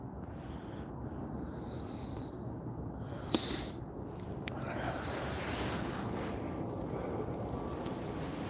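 Steady wind gusts buffet the microphone outdoors on a bank while fishing, a broad low roar that swells slightly toward the end, with a brief tap partway through and no voices.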